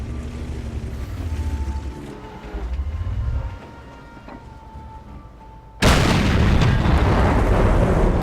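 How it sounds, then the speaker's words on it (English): Tank cannon fire in World of Tanks: engine rumble gives way to a sudden loud blast near six seconds, its roar holding steady and broad to the end. "Took a blind shot at the"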